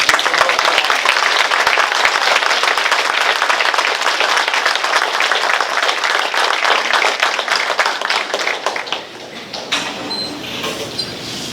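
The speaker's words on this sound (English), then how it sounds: "So big round of applause for Mike Walker." Banquet guests at a sports hall of fame induction give a hall of fame inductee a loud, full round of applause that holds strong for several seconds, then thins out and fades to scattered claps near the end.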